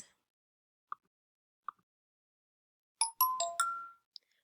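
Alternative timer chime from SMART Notebook classroom software: two soft isolated plinks, then a quick cascading run of bright bell-like tones, fairly quiet and alone, ending with a small final ping.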